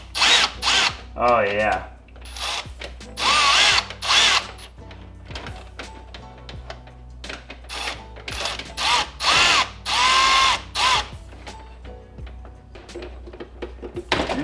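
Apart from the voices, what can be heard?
power drill with 7mm socket and Phillips bit, car strip-down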